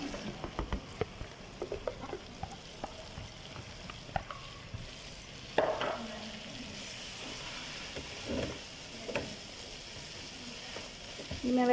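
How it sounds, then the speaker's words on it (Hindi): Chopped vegetables and half-cooked green chillies frying for chicken chow mein, a steady low sizzle and light crackle with scattered spits and pops, a few sharper clatters from stirring, heard close with no talk. "मैं वेजिटेबल को फ्राई कर लूँ।"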